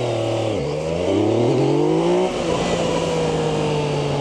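A Yamaha XSR 900 three-cylinder motorcycle pulls away, its engine note rising through the revs, dropping at a gear change, climbing again and then settling into a steady hum, loud and close, with no talking.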